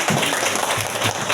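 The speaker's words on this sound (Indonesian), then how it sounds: "kasih tepuk tangan" Students clapping together in a classroom during an English lesson, a brief dense patter of many hands at moderate volume with no voices over it.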